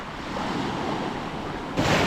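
Steady wash of ocean surf with wind rushing across the microphone, a louder gust or breaking wave near the end.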